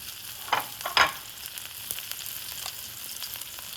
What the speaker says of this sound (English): We're going to add just a tad more oil, just a little bit more oil. Let that get nice and hot.